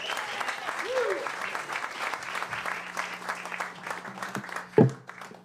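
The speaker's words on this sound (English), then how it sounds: "I'm clapping because I love some of the things that he did in this. A big hand for Jagoda on the drums." Audience applause for the drummer Jagoda at a live club show, moderate and steady for several seconds, with a voice speaking over the clapping and a sharp knock near the end.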